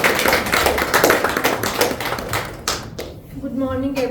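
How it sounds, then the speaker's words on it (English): A Toastmasters meeting audience claps for the incoming speaker, a dense burst of close applause that thins out after about three seconds, followed by a short tonal sound and quieter room noise. "Please give a round of applause to Toastmaster."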